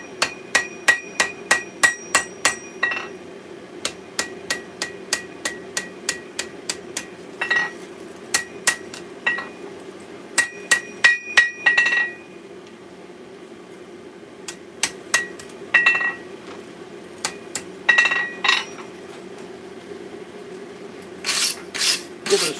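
A hammer strikes steel while a small Bowie knife is forged, giving sharp ringing blows in quick bursts separated by short pauses, loud and close with no talk.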